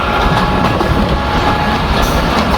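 Onboard the Rajbari Mail passenger train running from Arkandi toward Bhatiapara in Rajbari district, a loud, steady rolling rumble of wheels and carriage with faint rhythmic rail clatter fills the whole stretch.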